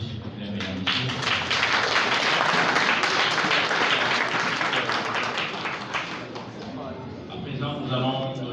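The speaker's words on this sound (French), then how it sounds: "On va encore l'applaudir s'il vous plaît, mesdames et messieurs" Sustained audience applause fills a room at a press conference for an album, a dense steady wash of many hands clapping at full volume, with some voices murmuring underneath as it tapers near the end.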